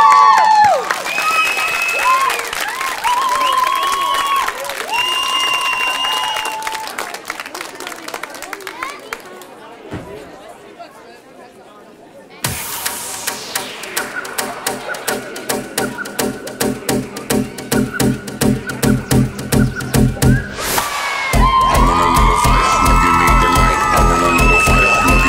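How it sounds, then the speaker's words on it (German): A crowd claps, cheers and whoops for the dance group Made in Crazy from Freizeitzentrum Pößneck. The cheering is mixed with talk, then drops into a brief quiet before loud rhythmic music starts. "nochmal einen riesigen Applaus"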